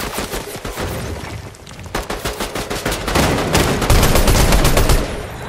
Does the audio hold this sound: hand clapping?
no